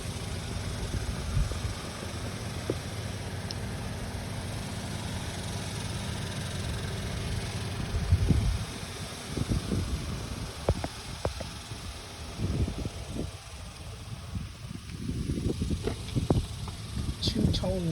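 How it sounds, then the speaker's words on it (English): A 2014 Toyota Camry idles with a low, steady hum at moderate volume, and a voice talks over the engine during the second half. "The vehicle is running."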